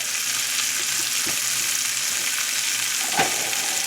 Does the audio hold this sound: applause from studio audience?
no